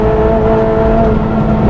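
A Honda Integra DC5 Type R with a K20 engine, 245bhp, holds a loud, steady high-rpm rev on track, a sustained buzzing drone close to the car with no voices.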